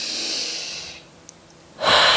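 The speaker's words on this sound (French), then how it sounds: "Une respiration ici." Two long breaths during a yoga pose in downward-facing dog: a steady exhale through the first second, a quiet pause, then a sharper inhale near the end, close and alone with no talk.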